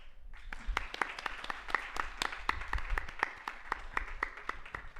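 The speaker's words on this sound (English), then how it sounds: "Can we have a huge round of applause for the winning team?" An audience at the WIEHACK 4.0 hackathon gives the winning team steady, moderately distant applause, a dense, even patter of many hands clapping that carries on for several seconds without pause.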